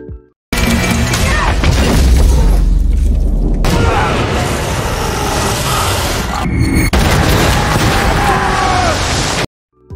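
A dense, loud barrage of gunfire and explosions from a Monster Hunter film battle, with soldiers shooting at the monster Diablos, as continuous booming roar that runs for several seconds with a brief dip partway through.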